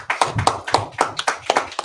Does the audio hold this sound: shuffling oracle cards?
no